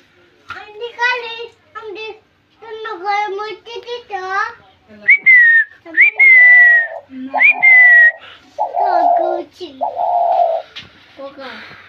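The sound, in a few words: spotted dove calling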